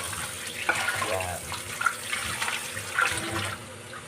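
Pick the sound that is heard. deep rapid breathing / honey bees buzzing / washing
washing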